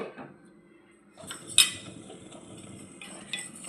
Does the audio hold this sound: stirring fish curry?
yes